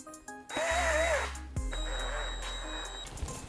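A power drill whirs in two bursts while assembling a sit-stand desk or gaming chair, the first rising and falling in pitch, the second longer and steadier, recorded close up in a quiet room.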